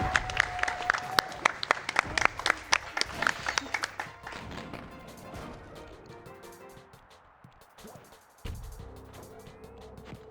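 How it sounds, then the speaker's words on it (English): A burst of lively clapping from an audience at a speedrunning event, dense at first and gradually thinning out into scattered claps and fading crowd noise. "Big round of applause for Blue for trying it though"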